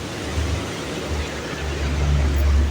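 Water rushing past a hydro turbine near Naran, a steady, loud broadband roar of flowing water with low rumbling and some wind buffeting on the microphone, no voices.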